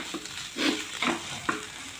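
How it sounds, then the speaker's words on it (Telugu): Prawn masala frying in a pan while being stirred, with soft sizzling and a few scraping strokes of the spoon against the pan, close and moderately loud, with no voices. "ఫ్రై చేసుకోండి."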